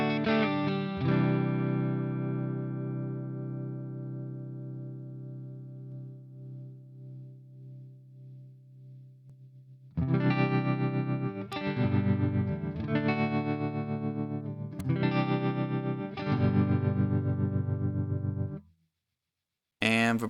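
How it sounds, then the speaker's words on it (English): Enya Nova Go Sonic electric guitar with a tremolo effect: a sustained chord whose volume pulses in a steady wobble, then several strummed chords pulsing the same way, close and clean. "Tremolo."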